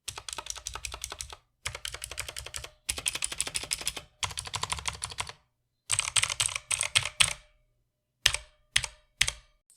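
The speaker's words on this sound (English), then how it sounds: "here's a quick sound test so you guys can hear what we're" A stock budget keyboard, the cheapest sold on Amazon, typed on up close in several quick bursts of clacky keystrokes separated by short pauses, ending with a few isolated key presses.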